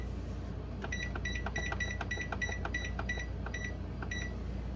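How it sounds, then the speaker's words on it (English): A kitchen timer being set while baking muffin-size pumpkin bread gives a quick series of short, bright electronic beeps in irregular bursts, close and clear over a steady low background hum. "So I'm setting my timer for 10 minutes."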